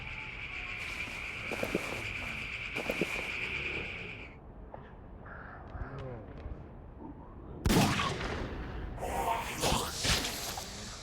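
Gunfire in the zombie survival game Dead Age: sharp bursts of shots crack out in a few separated clusters, with a loud burst late on, over quiet game ambience and faint background sounds.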